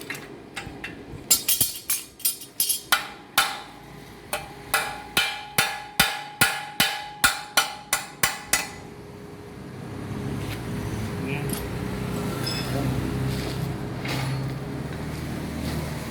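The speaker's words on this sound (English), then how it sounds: "Then you can get a chip in hammer like this. Then you knock this side." A hammer strikes a metal axle housing about sixteen times in a quick, steady rhythm, each knock sharp and ringing, then stops, leaving a rumbling noisy background.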